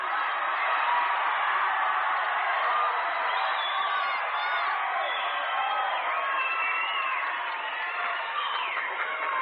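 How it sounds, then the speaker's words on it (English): A crowd cheers and whoops at a martial arts tournament, the Nam Wai Pai Grand Tournament, a dense, sustained roar of many voices with scattered shouts and whistles, steady and loud throughout. "ladies and gentlemen, cheer for these guys."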